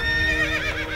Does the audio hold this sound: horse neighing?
yes